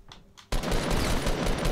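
Rapid gunfire bursts out in Fortnite Battle Royale Season 4 gameplay, a dense volley of shots that starts abruptly after a quiet moment and keeps rattling on loudly.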